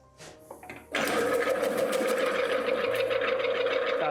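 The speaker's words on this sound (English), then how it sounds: "So you place your produce inside the machine. And you want to get nicely thin sliced spring onions." A Robot Coupe CL50 food processor starts up and runs steadily while slicing spring onions, its loud whirring motor hum continuous after a short quiet lead-in with faint handling noises.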